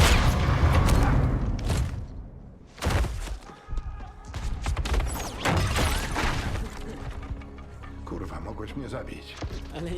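Loud booming gunfire and explosive bursts from a Battlefield 1 battle, with rumbling impacts and clatter layered densely throughout.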